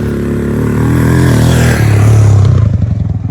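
A motorcycle engine labours loud and close while climbing a steep, rough off-road slope in Leepa Valley, its droning note building and roughening toward the end, with no speech.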